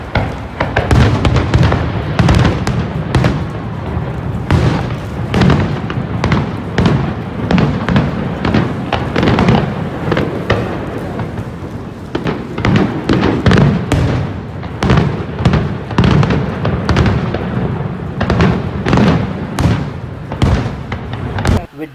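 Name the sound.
Niagara Falls fireworks from a video clip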